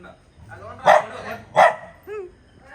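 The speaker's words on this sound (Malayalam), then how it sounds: "ശരത് ഭായിയുടെ പട്ടി" A dog barks twice, loud and close, followed by a short whine; a voice murmurs faintly in the background.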